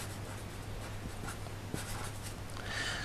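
A pencil draws a large graph with four quadrants on paper, quiet continuous scratchy strokes close to the microphone with a faint steady hum underneath.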